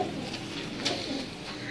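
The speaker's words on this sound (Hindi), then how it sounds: "ये जी काके वाला कबूतर है" A 25-year-old breeder pigeon of the kake wala type, kept caged, coos softly in a brief low burble with a slight swell midway, with no talk over it.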